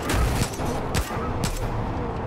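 Gunfire crosses back and forth in a Far Cry 5 firefight, a dense loud spray of overlapping shots with a few sharper bursts standing out over about two seconds.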